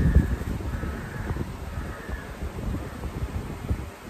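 Crow caws repeat three times at a slow, even pace against wind and outdoor rustling, moderately distant.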